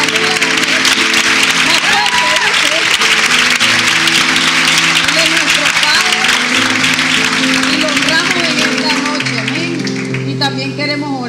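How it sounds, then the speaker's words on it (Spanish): A church congregation applauds at the inauguration of a Christian fellowship, with dense, steady clapping throughout and music and voices running underneath. "Démosle un aplauso al Pastor Ovidio"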